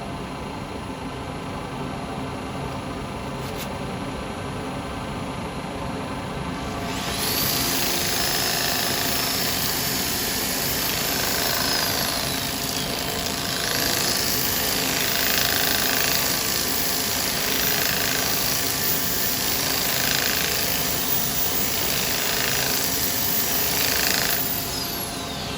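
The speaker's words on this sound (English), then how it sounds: "As you see, I'm only sanding with the centre bit there." A power tool whirs steadily for the whole stretch, with a gritty sanding hiss that swells and fades as the abrasive presses against a walnut burr bowl turning on a lathe.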